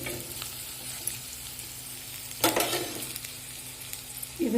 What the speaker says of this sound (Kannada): ಇದು ಒಗ್ಗರಣೆ ಆಗಲಿ. ಇದು ಗೆಣಸು ಹಾಕ್ತಾ ಇದ್ದೀನಿ.